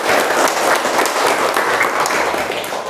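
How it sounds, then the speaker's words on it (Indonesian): Students in a classroom applaud with steady, dense clapping that fills the whole short stretch, loud and continuous with no talk over it. "Kita tepuk tangan dulu untuk kita semua."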